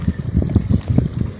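Strong wind gusting outdoors in Barangay Labuin, Santa Cruz, Laguna, a steady low buffeting rumble against the microphone that rises and falls in quick gusts, with no talking.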